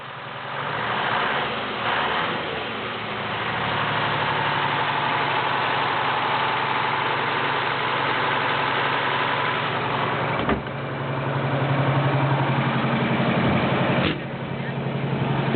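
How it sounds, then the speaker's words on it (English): A Detroit Diesel 8V71 two-stroke V8, 9.3 liters, in an American LaFrance fire truck runs with a loud, steady drone that rises as it is revved, with brief clunks near the end. "Here we have a Detroit diesel 8V71 two-stroke engine. Give it some rev, Josh."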